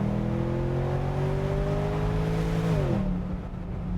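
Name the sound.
BMW 650Ci naturally aspirated V8 engine revving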